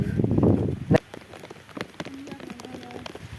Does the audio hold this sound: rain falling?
yes